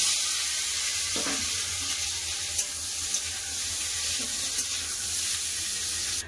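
Vegetable stems frying in mustard oil in a home kitchen pan, a steady bright hissing sizzle running evenly throughout with a few faint clicks and no voices.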